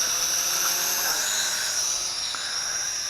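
An XK Alien X250 drone flies in light side wind near the end of its battery, its motors giving a steady, continuous high-pitched whine that holds at an even level throughout with no talking.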